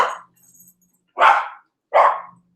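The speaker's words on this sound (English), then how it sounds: "He hears cars, and then he wants to bark." A dog barks three times, short and sharp, fairly close, the first bark slightly quieter and the last two louder with pauses between them.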